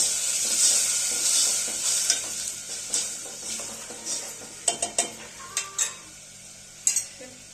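Masala spices roasting in a pan give a steady bright sizzle, while a spoon stirs and scrapes against the metal in a series of sharp clinks that grow more distinct toward the end.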